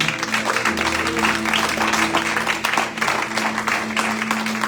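A church congregation applauds during a Spanish-language sermon, a steady dense wash of clapping with a sustained tone beneath, likely organ or keyboard, and some voices mixed in.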